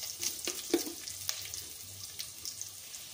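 Cashews frying in a pan for khara pongal, a faint crackling, hissing sizzle with a few sharp clicks and pops, steady and close, with no talking.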